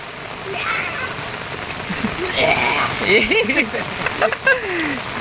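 Heavy rain falling steadily as a broad, even wash of noise, with people talking throughout over the downpour.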